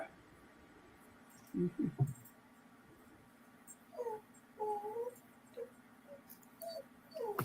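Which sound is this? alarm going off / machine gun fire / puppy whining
puppy whining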